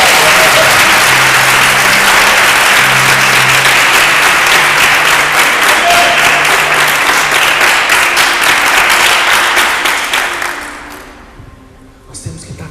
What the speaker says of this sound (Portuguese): Se você quer, dar um aplauso ao Senhor.